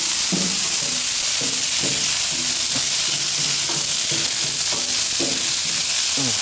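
Seasoned chicken pieces sizzle on a flat top griddle with a loud, constant hiss of hot fat, while faint, low background tones come and go underneath.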